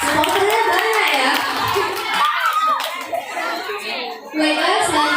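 Children's clapping after a speech at a school speech contest, bursts of hand claps mixed with kids' voices and chatter, fairly loud and close.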